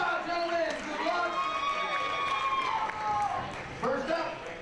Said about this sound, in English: Let's give both these guys a big round of applause.